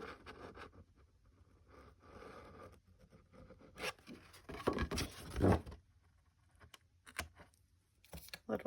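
Small snips and rustles of paper being cut with scissors for a wintry file-folder craft, soft and close, in short irregular bursts with quiet handling noise between them.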